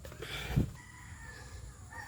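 Small bantam roosters heard nearby, one short clucking call rising briefly over a quiet outdoor background.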